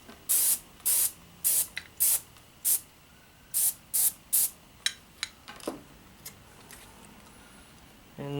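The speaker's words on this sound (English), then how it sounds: "You're not going to get it all on in one coat, so I mean they recommend that you do about 3 coats." Duracoat finish sprayed onto AR-15 rifle parts from a spray can, heard as a string of close, loud hissing bursts of about half a second each, evenly spaced, then shorter, sparser spurts.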